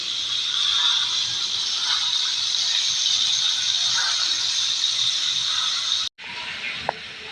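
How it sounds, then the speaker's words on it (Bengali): Fish fry in hot oil in a home kitchen on a hot summer day, giving a loud, continuous sizzle that stays even for several seconds before a brief cut and a slightly quieter return. "তাই আপনারা দেখেন আমি মাছটা ভেজে নিচ্ছি।"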